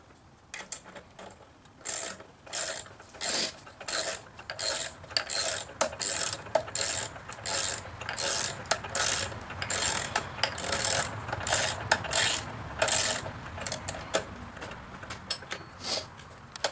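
Ratchet wrench tightening bolts on a wooden glider swing, a long run of quick, close clicking bursts in steady rhythm with short pauses between strokes, loud and alone without talk.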